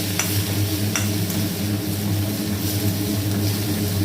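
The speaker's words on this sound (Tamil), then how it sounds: "தக்காளியும் போட்டுக்கோங்க போட்டு அந்த மாங்காயும் போட்டு லேசாக வதக்கின உடனே கொஞ்சம் பெருங்காயத்தூள் போட்டுக்கோங்க" Tomato and raw mango sautéing in a pan for sambar, a steady close sizzle with a low hum beneath it and occasional sharp stirring knocks, and no talk.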